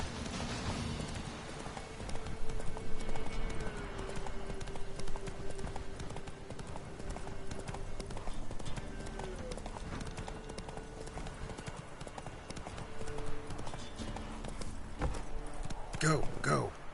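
Roach the horse gallops in The Witcher 3, its hooves beating a fast, steady rhythm through the whole stretch while a voice talks over it.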